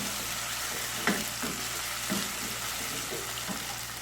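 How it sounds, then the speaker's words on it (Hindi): Cumin seeds fry in hot oil for a zucchini and potato marrow sabzi, giving a steady broadband sizzle with a few faint clicks and pops. No one speaks. "दाना और ज़ीरा की इस तरह फ्राई करने से बहुत ही अच्छी खुशबू आती है"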